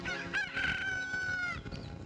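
A rooster crows one long, loud cock-a-doodle-doo close by. The call rises and holds a high, bright tone for about a second and a half, then breaks off into rough trailing notes.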